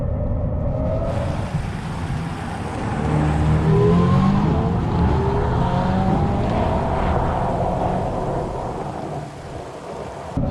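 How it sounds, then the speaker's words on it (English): Simulated petrol engine note from a 2024 Hyundai Ioniq 5 N electric car, a rising, droning roar that swells in pitch and volume while driving, steady and loud with no talking. "Sorry. Petrol motor."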